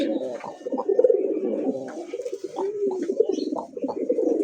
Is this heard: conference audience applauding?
no